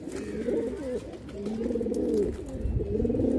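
A Star Kalanka pigeon pair in a loft coos in repeated soft, throaty rolling phrases, close by and clear with no talk over them.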